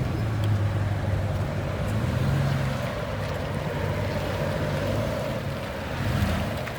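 A Chevy Silverado 5.3L V8 with a Borla XR1 exhaust, revving: a steady, deep, droning low rumble that swells slightly at the end, with broad noisy wash above and no talk.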